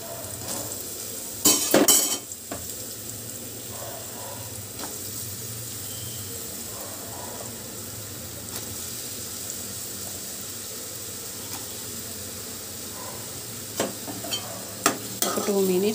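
Pieces of ridge gourd frying in hot oil in a pan, a steady low sizzle with occasional stirring scrapes and a couple of louder clinks of a utensil against the pan.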